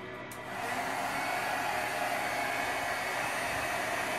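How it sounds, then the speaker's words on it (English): A steady blowing whoosh of a heat gun texturing polyester fabric switches on after a brief moment and keeps roaring evenly at close range, with no voices. "my heat gun to texture the fabric"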